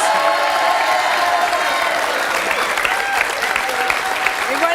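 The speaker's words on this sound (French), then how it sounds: "Je vous demande d'applaudir Sophie et le gâteau." A television studio audience breaks into loud, sustained applause with some cheering, close and dense, while a voice speaks faintly underneath.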